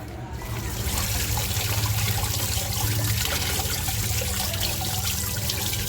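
Continuous running tap water splashes and trickles steadily while a crab is scrubbed clean with a pad for crab egg biryani, the rushing flow loud and close throughout with scrubbing lost under it.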